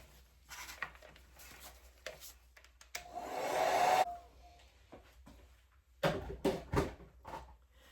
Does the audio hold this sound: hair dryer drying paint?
yes